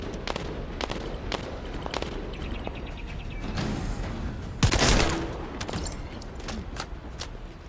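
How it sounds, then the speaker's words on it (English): In The First Descendant, gunfire hits the player as rapid, sharp shots crackling in a steady stream, with a louder burst midway, and no talking over it. "I'm getting shot by something."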